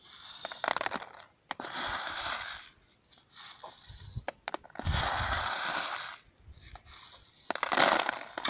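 The cap of a WILE 55 grain moisture meter is screwed down onto wheat, producing bursts of gritty crunching and ratcheting separated by short pauses, close and moderately loud.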